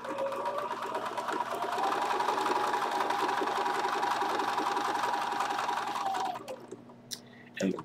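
A Bernina sewing machine stitches down French rose appliques in a steady continuous whir that runs for several seconds, then slows and stops, leaving a few faint clicks.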